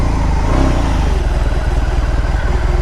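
A BMW R18 B motorcycle engine running after start-up, a loud, close, steady low throbbing idle with even pulsing and no talking.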